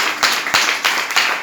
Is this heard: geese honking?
no